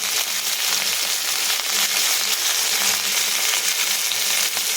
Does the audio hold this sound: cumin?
yes